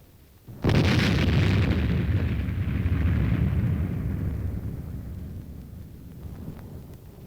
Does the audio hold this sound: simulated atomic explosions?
yes